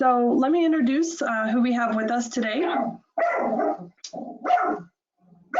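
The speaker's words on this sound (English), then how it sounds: "Sorry about my dogs." Pet dogs bark and yip repeatedly in the background during an online scientific webinar, the barks mixing with a person speaking.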